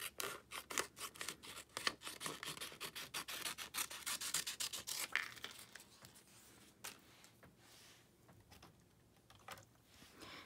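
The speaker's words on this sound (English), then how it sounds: "we're going to cut it along the umbrella like that" Scissors cut through stamped cardstock along an umbrella outline in a card-making session, giving a close series of quick rhythmic snips and rasps that slow into quieter, scattered scrapes near the end.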